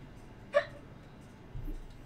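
A single sharp hiccup from an animated character, short and close, followed by quiet background with a soft low rumble near the end.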